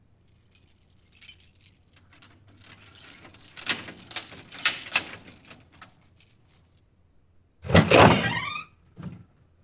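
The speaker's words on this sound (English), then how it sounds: "I moved the key into the hole and turned it." Key jangling and scraping into a door lock, then a sharp metallic turn with a couple of clicks near the end, close and fairly loud with no talk.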